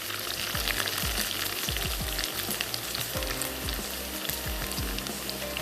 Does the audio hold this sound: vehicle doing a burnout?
no